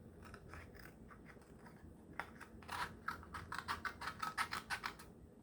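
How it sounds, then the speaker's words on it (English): A very small pair of scissors cuts out watercolor paper flowers, quiet at first, then a quickening run of crisp snips close by, about a dozen in a row. "And so with my scissors, I have a very small pair of scissors."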